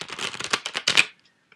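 Cards riffle quickly in a crisp flurry of rapid flutters, close by, ending abruptly in silence.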